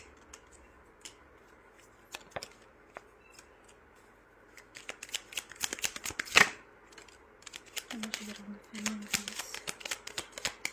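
Tarot cards are riffled and shuffled close by in bursts of crisp flapping and snapping, getting busier and louder toward the end, with some quiet handling before.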